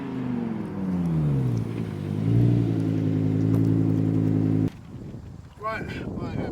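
A Lamborghini Huracan LP580-2, rebuilt after a heavy crash, launches hard with a loud, sustained engine roar that climbs and holds before cutting off abruptly, followed by quieter wind and background noise.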